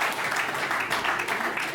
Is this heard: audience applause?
yes